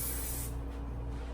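Hairspray is sprayed from a can onto a curly updo in a short hissing burst lasting about half a second, close and fairly loud, followed by a low background hum.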